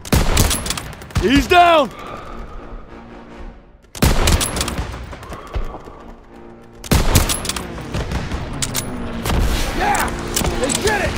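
Call of Duty WWII combat with loud close bursts of rifle and machine-gun fire in several volleys separated by short lulls, with soldiers shouting between the shots.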